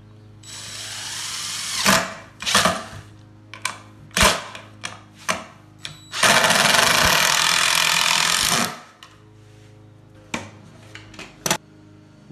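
A power drill drives wood screws into a picnic table board, whirring in short bursts, then one longer sustained spin before more brief pulses, close and loud.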